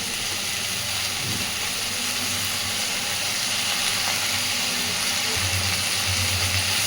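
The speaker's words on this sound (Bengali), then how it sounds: "এইবার আমি আগে থেকে লবণ হলুদ মাখিয়ে রাখা মাছের তেলটা এর মধ্যে দিয়ে দিচ্ছি" Fish oil mixed with salt and turmeric sizzles in a pan among fried potato and eggplant, giving a loud, steady hiss that holds without pause.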